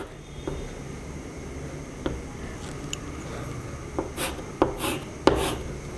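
Pen or chalk writes on a board during a chemistry lesson on the Simmons-Smith reaction, with scattered soft scratches and several sharper taps and strokes growing more frequent toward the end, close and fairly quiet.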